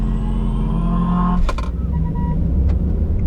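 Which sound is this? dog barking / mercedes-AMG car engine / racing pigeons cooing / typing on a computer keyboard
mercedes-AMG car engine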